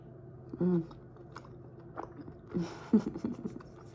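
Close, soft chewing of rose tteokbokki, chewy Korean rice cakes in a creamy spicy sauce, with a few moist bites and squishes in two short bursts over a quiet background.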